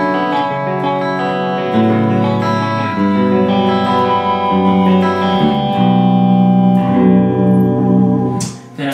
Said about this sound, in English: this is pretty much a straight up clean tone